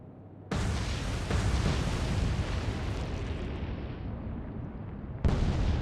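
Torpedoes hit a ship in the naval video game Atlantic Fleet: a sudden loud blast opens into a long rumbling roar that slowly thins, then a second sharp burst strikes near the end.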